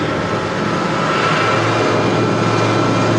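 A loud, continuous airplane engine roar plays as a sound effect in a school stage play, a steady droning rumble with no voices over it.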